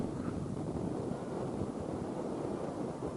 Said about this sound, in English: Everyone knows it's windy.